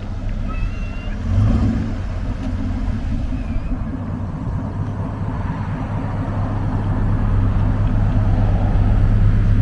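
A V8-powered Volvo 240 rumbles low and steady nearby, its drone swelling slightly as the car pulls away.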